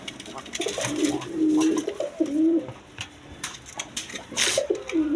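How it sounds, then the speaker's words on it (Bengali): Rajgolla pigeons coo repeatedly nearby in soft, rolling calls, several birds overlapping, with rustling and faint background chatter. "রাজগোল্লা কবুতর দেখেন একদম কোয়ালিটি সম্পন্ন কবুতর"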